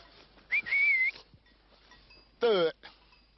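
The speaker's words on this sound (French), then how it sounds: "Quand je parle à mes chèvres, que je les siffle, ils m'écoutent." A man whistles sharply twice to call goats, a short sliding whistle then a rapid warbling trill, loud and close against a quiet outdoor background in Corsica.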